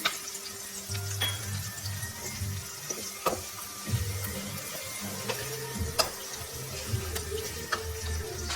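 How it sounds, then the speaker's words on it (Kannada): Curry leaves sizzle and crackle in hot oil in a pan, a steady frying hiss with scattered sharp pops and a low stirring rumble, fairly close and with no talking. "ಈಗ ಕರಿಬೇವಿನ ಸೊಪ್ಪು ಹಾಕ್ತಿದ್ದೀನಿ"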